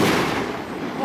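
A firecracker bursts during Christmas festivities in Adrianópolis, giving one loud, broad blast of noise that fills the brief moment with little decay.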